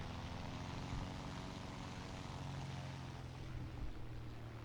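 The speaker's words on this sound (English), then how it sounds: "And I'll turn the engine back up." Propeller fighter plane engine in War Thunder, a steady droning hum with a rough low throb that holds evenly and dips slightly near the end, alone without talk.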